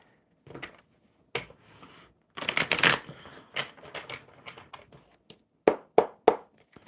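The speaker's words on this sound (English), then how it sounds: "I suddenly forgot how to shuffle." A deck of playing cards is shuffled by hand nearby in a series of irregular crisp riffles and taps, separated by short quiet gaps, with a dense flurry in the middle and a few sharp snaps at the end.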